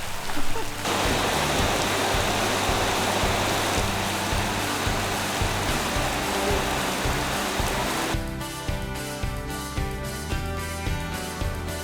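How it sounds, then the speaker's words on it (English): Heavy tropical rain pours down steadily at Elephant Nature Park near Chiang Mai, a dense hiss of drops on surfaces that shifts texture partway through. "The rains are coming."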